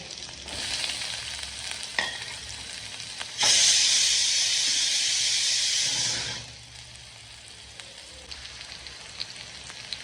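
Garlic and chopped onion hit hot oil in a pan for dal fry, a loud burst of sizzling that swells midway then settles into a quieter steady fry with faint utensil taps, no talking.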